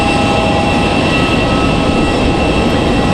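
Steady, loud jet engine drone from an Embraer E-175 taxiing at Raleigh-Durham airport, a continuous close whine with a broad rumble underneath and no voices.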